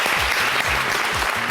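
Audience at a talent show television program gives loud, dense, sustained applause for a contestant, steady clapping close up with no talk.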